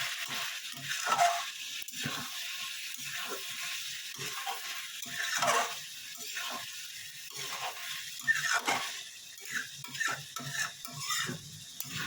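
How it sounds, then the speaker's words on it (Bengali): Mixed vegetable curry (panchmishali sabji) being stirred in a pan after simmering under a lid, with repeated scraping and stirring strokes over a soft sizzle, close and fairly quiet, no talk. "এবার ঢাকাটা সরাবো, একটুখানি নাড়িয়ে দেবো"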